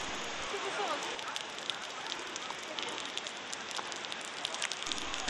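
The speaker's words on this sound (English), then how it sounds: "round about now it turned rainy as well" Steady rain falls around Sydney harbour, a dense continuous hiss of drops on wet walkways and shelters, even in level throughout with scattered sharper patters on nearby surfaces.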